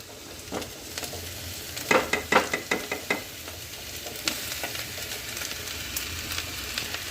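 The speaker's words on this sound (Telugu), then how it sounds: "ఇప్పుడు మనం ఈ క్యాప్సికమ్ పీసెస్ తీసుకొని ఇందులో వేసేద్దాం" Capsicum pieces fry in a pan with a steady sizzle, punctuated by a quick run of sharp clinks and scrapes as they are stirred, then settle back into even frying.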